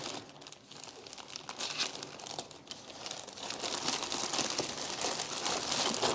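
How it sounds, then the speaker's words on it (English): Plastic and cardboard packaging of a Roborock Saros 10R robot vacuum being opened, giving a steady close crinkling and crumpling with scattered tearing, no talking. "Now the robot is here. I'll open the packaging."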